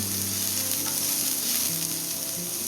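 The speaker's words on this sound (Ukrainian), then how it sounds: "Розігріваємо пательню з олійкою та викладаємо нарізану цибульку." Chopped onion sizzles steadily in hot oil in a frying pan, a continuous close crackle with occasional stirring and no talk.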